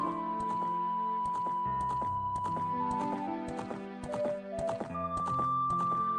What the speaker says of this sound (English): And you can hear the footstep of the horse.